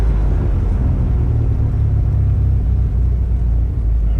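A Mooney M20J light aircraft's piston engine runs at idle on the ground, a loud, close, steady low rumble with an even throb and no change in pace, no voices over it.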